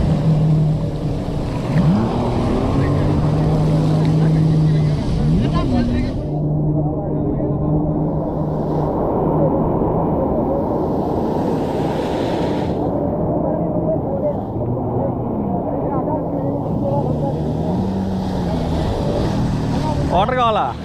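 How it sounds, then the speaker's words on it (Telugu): A speedboat engine drones steadily on the sea off Goa, with rushing wind and water noise around it; the motor's pitch rises and falls as it runs, and voices talk over it. "మళ్ళీ స్పీడ్ బోట్ ఎక్కుతున్నాం"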